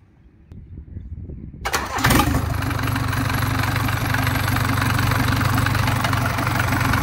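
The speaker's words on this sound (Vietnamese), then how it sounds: "Nghe tiếng máy của động cơ này như thế nào." A Komatsu 4D94-2 diesel engine cranks and catches, then settles into a loud, steady, close idle with a low throb that holds to the end, with no talk over it.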